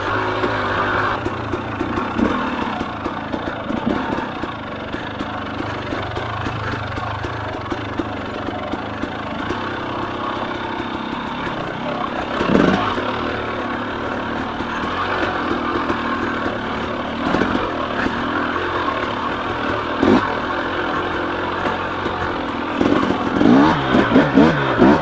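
A KTM 300 XC dirt bike engine runs steadily through a ride on single track, a continuous close buzzing drone with frequent sharp revving bursts and clattering, no voices over it.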